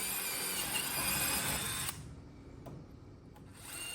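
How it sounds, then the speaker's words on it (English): A DeWalt DCF601 Xtreme 12V screwdriver drives a 1/4-inch drill bit with a loud steady whir for about two seconds, then drops to a quieter hum broken by a couple of sharp clicks before rising again. "1/4-inch drill bit."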